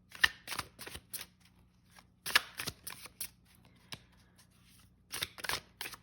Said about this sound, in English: So I tend to hand over hand shuffle, or like I've mentioned, doing a weird mashing kind of motion like that,